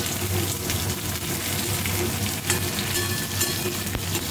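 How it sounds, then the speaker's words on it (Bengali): Thick-sliced onions frying in a pan, giving a steady, close, even sizzle that runs without a break and has no talking over it. "খুব সুন্দর করে ভাজতে হচ্ছে।"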